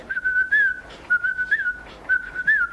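Someone whistles a tune in clear, sustained melodic phrases, three short runs separated by brief pauses, close and distinct with no talking over it.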